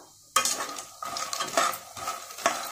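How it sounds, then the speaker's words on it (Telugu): Phool makhana (fox nuts) lightly frying in oil in a pan, with a sudden clatter as they go in, then repeated scraping and clinking of a stirring spoon over a soft sizzle, close and fairly loud, with no talking. "ఇప్పుడు పూల్ మకాని తీసుకుని లైట్గా వేయించుకుందాం."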